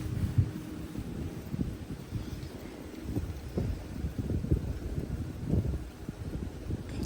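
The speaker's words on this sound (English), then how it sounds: "the wind is starting to pick up" Outdoor wind picking up on a morning where a buck deer is feeding, a low steady rumble of gusts buffeting the microphone with rustling, rising and falling without talk.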